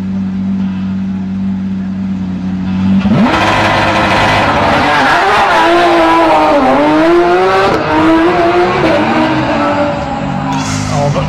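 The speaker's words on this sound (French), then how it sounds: "une Porsche qui démarre en haut dans les tours sans partir en dérive" Porsche rally car launching from the start line at the Rallye des Grands Fonds, engine held high in the revs, then a loud surge as it pulls away, climbing through gears close by with tire noise and fading slightly.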